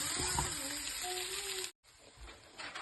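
Potato and cauliflower pieces frying in a pan give a steady, close sizzle that cuts off sharply near the end, then resumes more softly.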